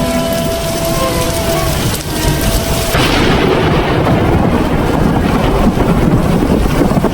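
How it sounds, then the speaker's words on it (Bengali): Heavy rain pours down in a Bengali cartoon storm, a dense, loud, steady hiss that thickens into an even harder downpour partway through, with no voices. "দেখা যাক বৃষ্টি কমে কিনা।"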